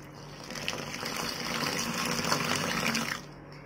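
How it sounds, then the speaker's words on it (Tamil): Water poured from a height into a bowl of wheat flour dosa batter, a steady gushing splash lasting about three seconds before stopping, close and fairly loud with no talk. "நல்லா தூரமா தூக்கி ஊத்துங்க."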